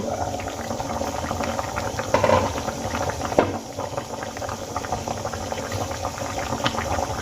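Fish curry with potatoes and green tomatoes bubbles in a pot, a dense steady simmering burble with a few clinks and rattles, close and continuous without talk.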